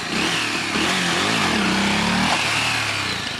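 A motorcycle engine revs loudly and continuously up close, its pitch rising and falling as the throttle is worked.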